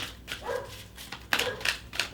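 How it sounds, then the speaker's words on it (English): The neighbor's dogs bark in several sharp, uneven bursts, somewhat distant and heard through the room with no talking over them. "Sorry if you hear those doggies. They're my neighbor's dogs."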